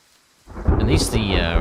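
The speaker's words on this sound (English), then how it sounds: "At least the rain's gonna mask my noise." Rain and thunder in the hunting game Way of the Hunter, set on a reindeer reserve: after a quiet start, a heavy rumble of thunder rolls in over steady, close rainfall that keeps going to the end.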